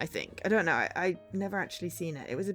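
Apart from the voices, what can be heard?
None of the usual background noises is heard.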